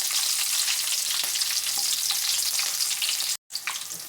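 Green chilies, mustard seeds, cumin and curry leaves frying in hot oil make a loud, dense, continuous crackling sizzle with a brief dropout near the end, and no voices.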